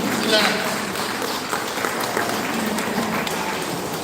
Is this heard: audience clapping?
yes